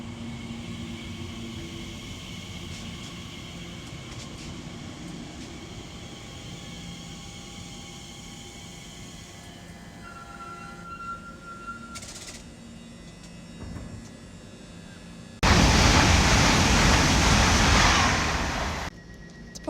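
Train pulling into West Ealing station on the Great Western Main Line after arriving from London Paddington, a steady mechanical rumble with a tonal whine, then a loud broadband hiss of brakes or air release near the end.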